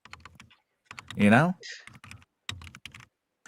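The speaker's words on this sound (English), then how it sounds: "I'm just typing something" Quick clattering keystrokes on a computer keyboard, close and brief, tapped in short bursts before and after a person speaks.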